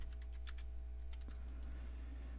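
A few quick keystrokes on a computer keyboard while entering text during a Windows 2.11 setup in VirtualBox. The clicks are soft and close, in brief clusters over a steady low electrical hum.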